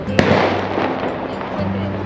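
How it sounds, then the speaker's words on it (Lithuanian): Firecrackers set off by boys in an open lot below, a sharp pop followed by a rumbling, rolling burst of noise lasting a couple of seconds, with a loud hum running underneath. "Pacaniokai apačioj žaidžia su petardom."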